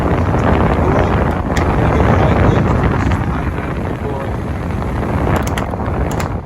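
A 2015 Keystone Springdale 2600 TB RV's air conditioner fan running on high: a loud, continuous rushing whoosh of moving air that holds steady throughout.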